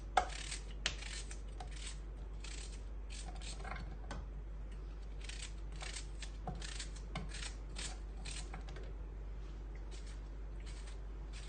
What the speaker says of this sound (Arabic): ابدا هنا اقطع البصل حلقات